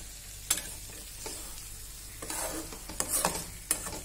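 Masala for brinjal curry frying in oil while being stirred, with soft continuous sizzling and several sharp scraping clicks of the spoon against the pan, close and fairly quiet with no talking.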